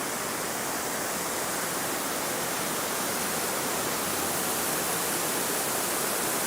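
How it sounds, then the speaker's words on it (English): A waterfall roars as a constant, loud, broadband rush of falling water, heard up close in Bellevue, Washington, with no other sounds standing out. "Look how close you can get to this waterfall."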